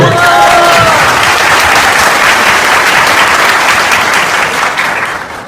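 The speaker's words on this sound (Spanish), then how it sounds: "Un aplauso para él." Dense, loud applause from a church audience greeting a speaker, steady for several seconds and tapering near the end, with a brief voice at the start.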